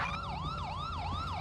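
A GTA San Andreas ambulance siren on a code 3 response wails in steady up-and-down sweeps, about four cycles, loud and close, with no voices over it.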